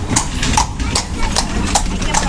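Ponies giving rides clip-clop along a busy outdoor spot: steady, fairly loud hoofbeats in an even rhythm over a constant background rumble, with faint voices mixed in.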